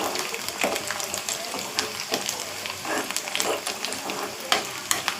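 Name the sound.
fenugreek tempering frying for fish curry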